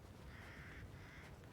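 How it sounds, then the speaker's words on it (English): Crows caw in Resident Evil Village, two drawn-out raspy calls sounding faint and somewhat distant over a quiet, hissy game ambience. "Crows are very annoying, just like in real life."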